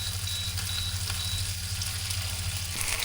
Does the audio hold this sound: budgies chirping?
no